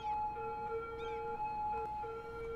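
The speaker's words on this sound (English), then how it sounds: "there's tons of those freaking ambulances going everywhere" Ambulance sirens wailing in the city-building game Cities: Skylines, several overlapping tones sliding up and down, steady and moderately loud with no voices.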